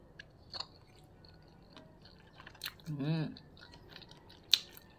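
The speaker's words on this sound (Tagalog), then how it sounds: "Gusto ko itong kinakain sa umaga, itlog na nilaga" Someone eating a boiled egg for breakfast, with soft, close chewing and a few wet mouth clicks, brief and quiet, in an otherwise calm room.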